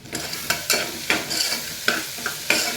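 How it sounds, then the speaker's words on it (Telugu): Onions frying in a pan are stirred with a spoon, giving loud, close scraping strokes roughly every half second over a constant sizzle. "ఉల్లిపాయలు ఇట్లా వేగినాయండి, ఇది కదిలిచ్చి"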